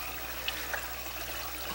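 Water pours steadily into a radial flow settler in an aquaponic greenhouse and strikes a diffuser plate, making a faint, continuous rushing wash with no break.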